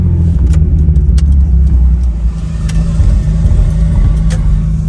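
An MK4 Supra fitted with a Tomei LSD differential turns, giving a series of sharp clunks and clicks over a loud, steady low engine and road rumble, heard from inside the car with no talk.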